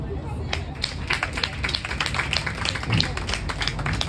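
Audience at a health event question-and-answer session claps in a steady patter of hands, fairly close, with murmured voices mixed in beneath.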